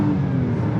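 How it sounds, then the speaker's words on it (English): An Acura MDX Type S engine and exhaust pull under acceleration with a smooth, moderately loud mid-pitched drone heard from inside the vehicle, a brief steady burst with no talk. "That exhaust, it's not like incredibly loud or anything."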